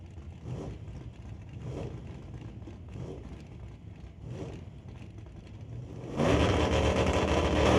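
Drag race at Mission Raceway Park, an El Camino against a Camaro: steady engine drone with rising revs, then a loud, broadband roar bursts in near the end as the cars launch down the strip.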